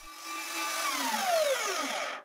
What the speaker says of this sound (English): And now I use the biggest drill bit I have to enlarge the router bit hole